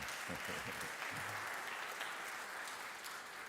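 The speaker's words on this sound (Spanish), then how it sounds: "dale un aplauso a Jesucristo en esta mañana" Church congregation applauding during a Sunday morning service, a steady wash of clapping that fills the whole stretch at moderate distance, with a brief low voice near the start.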